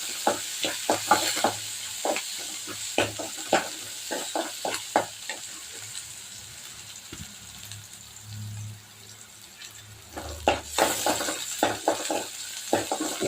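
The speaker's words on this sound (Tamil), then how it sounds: "சின்ன வெங்காயம் ஒரு 7-8 வெங்காயம் எடுத்து வெட்டி இருக்கிற பொடி போட்டு இதை நம்ம நல்லா வதக்கிக்கலாம்" Seven or eight small chopped onions sautéing with spice powder in a pan, frying with a steady sizzle under repeated scraping and stirring strokes, close and continuous.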